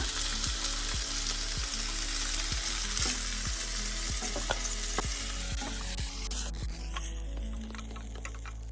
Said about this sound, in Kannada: ಹೀರೆಕಾಯಿ ಇಷ್ಟು ಫ್ರೈ ಆದರೆ ಸಾಕು.